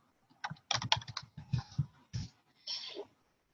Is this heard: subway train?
no